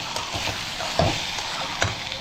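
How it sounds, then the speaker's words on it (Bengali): Spice paste sizzling as it fries in a kadai, an even close crackle broken by a couple of brief scrape or stir strokes, with no voices. "ভাজা ভাজা হয়ে গেছে মশলাটা।"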